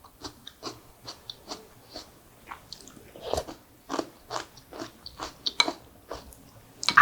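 Crunchy lettuce water kimchi being chewed up close, a run of crisp, wet bites and crunches in an irregular rhythm, loud and alone with no talk.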